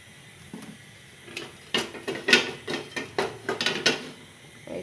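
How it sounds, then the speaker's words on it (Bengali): A wok is set on a kitchen stove while cooking egg noodles, followed by a run of sharp metallic clanks and clatters of pots and utensils, close and irregular after a quiet start. "এই তো চুলায় আমি একটা কড়াই বসিয়ে দিয়েছি"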